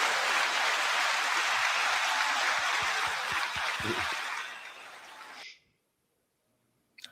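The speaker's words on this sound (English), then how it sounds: "9-second applause." An audience applauds with steady, crowd-wide clapping for about five seconds, then it fades out abruptly and leaves near silence.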